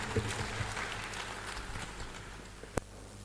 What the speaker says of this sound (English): Please welcome Professor Dubey with a round of applause.